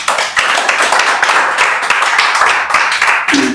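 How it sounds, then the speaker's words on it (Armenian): An audience at an Armenian-language cultural event claps loudly and close, dense overlapping applause that continues with only slight swells before cutting off near the end. "ծափահարենք նաև մեր ժողովրդին ու Հրանտ Մաթևոսյանին"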